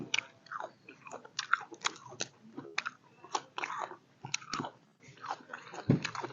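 Someone bites and chews a crunchy, spicy shrimp salad (koi kung) close to the microphone, producing rapid irregular crunches and wet mastication sounds throughout.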